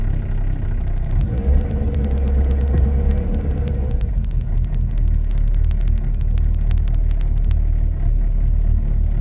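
A Ford Cortina Mk1 engine idling while warming up, a steady low rumbling drone with a brief slightly raised hum early on, heard close and continuous.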